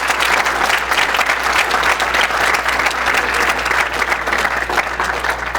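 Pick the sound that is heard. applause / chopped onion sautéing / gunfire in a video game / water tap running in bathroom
applause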